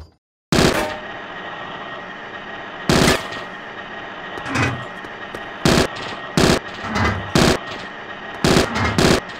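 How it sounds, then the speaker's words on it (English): Submachine gun fire at targets in the Bad Boys 2: Miami Takedown video game: loud, sharp automatic bursts, one long opening burst then several short repeated volleys over a steady droning background hum. "Try taking out the targets with that submachine gun over there."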